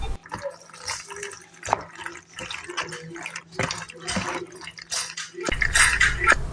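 Thick, creamy cheese sauce is stirred into macaroni noodles, giving wet squelching and sloppy sticky slaps in an uneven rhythm, loud and close. A brighter clatter of utensil and dish comes at the end.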